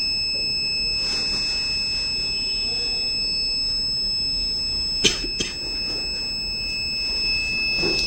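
A battery management system alarm buzzer on an IoT-monitored electric vehicle battery pack sounds as a steady high electronic tone held throughout, with a couple of brief clicks partway through, in a quiet room.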